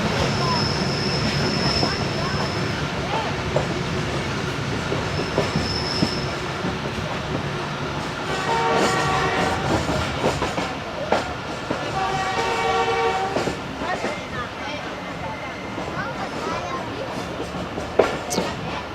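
A passenger train on the day run between Rawalpindi and Lahore rumbles steadily from the inside, with wheels rattling on the rails, brief high squeals and a horn sounding twice, while voices murmur faintly throughout.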